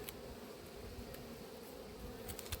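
Honey bees at an apiary hive give a steady, soft, continuous buzzing drone, faint and low, with a few brief louder passes near the end and no voices.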